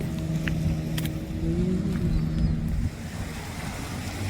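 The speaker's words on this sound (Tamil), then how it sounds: "கடல் அலை இங்கே கொஞ்சம் வேவ்ஸ் அப்படியே அடிச்சிட்ருக்குது" Sea waves and wind rush around a boat travelling from Masirah Island to Shana Port, a continuous loud roar of water and buffeting air close to the microphone.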